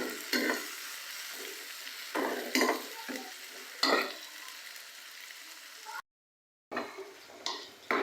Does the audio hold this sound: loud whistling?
no